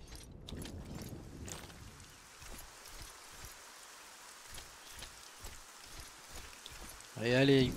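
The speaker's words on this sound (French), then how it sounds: "Allez, allez, il pleut." Rain falls in the video game Arcania: Gothic 4 as a soft, steady hiss of drops, faint and continuous, with a louder burst of sound right at the end.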